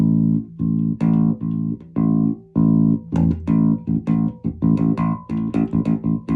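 Bass guitar notes are plucked with fingernails one after another with a bright, snappy attack, some sustained and others quick and clipped, played alone up close.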